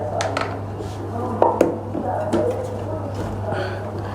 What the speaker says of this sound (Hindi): अब इसको मैं कट लगाऊंगी इस तरह का